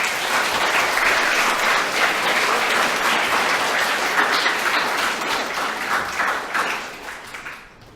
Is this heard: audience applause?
yes